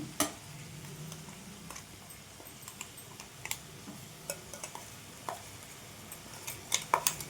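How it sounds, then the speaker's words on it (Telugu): Eggplant with spice powder, sesame and peanut powder frying in a pan over a medium flame, a soft steady sizzle with scattered light clicks and taps of stirring that grow busier toward the end. "ఫ్లేమ్ మీడియంలో ఉంచేసుకొని ఇవన్నీ వేయించుకోవాలి"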